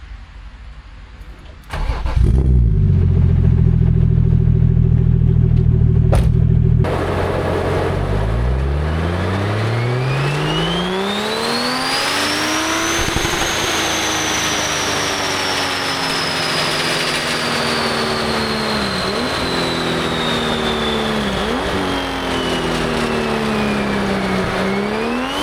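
A turbocharged BMW E36 with an MS41 engine cranks and starts, then idles before a long rev rises, holds high and eases down with a couple of small blips, loud and close with no talk.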